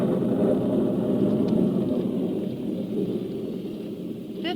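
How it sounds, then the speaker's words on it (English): Heavy rain pours steadily in a radio-drama storm sound effect, a dense continuous wash with a low rumble of thunder beneath it, loud and unbroken with no voices. "Then a cloudburst hit."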